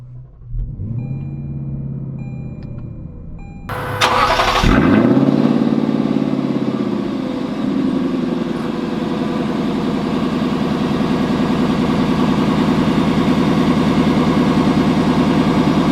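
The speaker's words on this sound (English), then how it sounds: "let's take the LC500 out to see how it drives." A 2020 Lexus LC 500 on a snowy day: after a few seconds of quiet cabin noise, the engine cranks and fires with a loud, sharp burst, then settles into a steady, deep rumbling idle up close.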